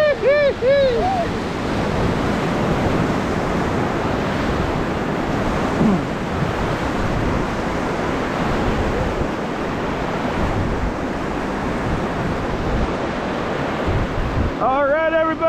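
Teepee Rapid on a whitewater river running at 20,000 cfs roars in a constant loud rush of churning water, with wind buffeting the microphone and brief faint shouts at the start and end.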